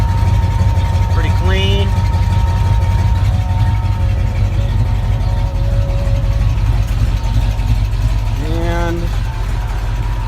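A 1965 Ford Ranchero's engine idles close by with a steady low rumble, while someone talks briefly over it.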